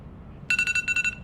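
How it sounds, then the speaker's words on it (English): A timer alarm going off: a rapid series of about eight high-pitched electronic beeps in quick rhythmic bursts, close and clear over a quiet background. "And the timer is up."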